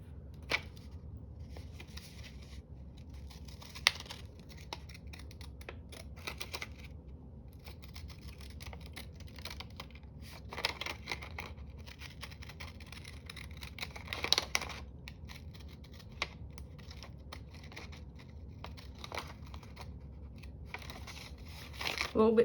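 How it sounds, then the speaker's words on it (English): Deckled-edge scissors cut through paper in close, quiet snips and rustles, coming in irregular bursts with short pauses, the paper crinkling faintly between cuts. "I'm going to cut it out using a deckled edge"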